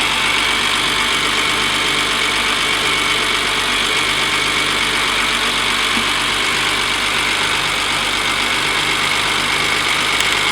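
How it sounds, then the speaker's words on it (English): A BMW E30 engine idles steadily while running during a power steering flush, a continuous even hum with broadband mechanical noise and no voices throughout. "And now while the car is running"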